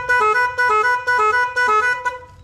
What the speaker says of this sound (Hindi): हॉर्न लगाना कंप्लीट हो गया। साउंड सुनिए